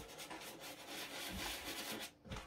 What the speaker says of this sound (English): we're just gonna hammer these uppers with the soft bristle brush. Nice circular motion as always.